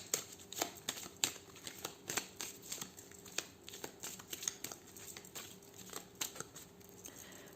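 A 32-card deck is shuffled and cut by hand: a quick run of crisp card riffles and slaps, close and fairly quiet, in an uneven rhythm with no voices.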